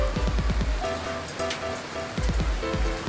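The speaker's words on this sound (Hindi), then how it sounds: "ये जी बारिश हो रही है, बारिश का बहुत ही मज़ा आ रहा है।" Rain falls outdoors as a faint, steady patter on surfaces, broken by sharp louder drip impacts in short bursts, with no speech.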